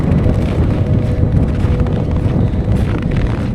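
Strong wind gusts blow snow across a snowy mountain plateau, a loud, continuous rushing roar with heavy low buffeting against the microphone, steady throughout with no voices.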